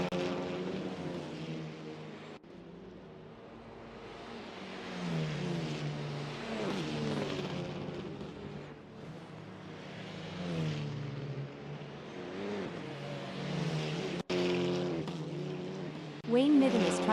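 A Polo Supa Cup race car in round 1 of the SMSA series passes the start-finish line, its engine droning loudly with pitch rising and falling through gear changes over about seventeen seconds.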